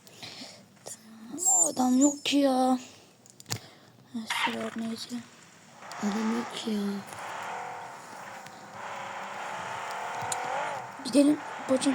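A car in the video game PUBG drives along with its engine rising and falling in pitch, mostly under a player's excited talk, with the engine clearest in the second half.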